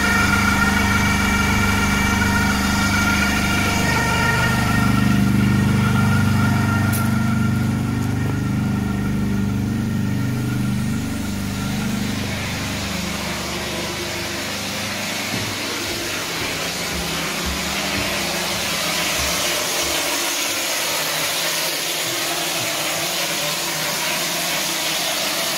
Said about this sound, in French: Et là c'est l'air du compresseur qui est là pour faire projeter.